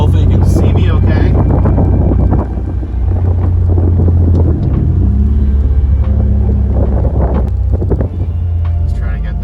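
A turbocharged Nissan G35 with a built engine pulls hard at wide open throttle in second gear on damp roads, its loud, droning engine rumble rising steadily with heavy wind buffeting and a brief voice.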